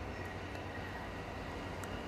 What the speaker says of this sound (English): Oh, it's a not in service train.